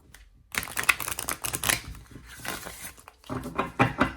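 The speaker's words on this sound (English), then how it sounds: "I love how you can still riffle it and bridge it" A Motherpeace tarot deck is riffle shuffled and bridged, giving a dense flurry of rapid card flicks after a brief pause, then a short break and a second burst of fluttering clicks, close and fairly loud, with no talking.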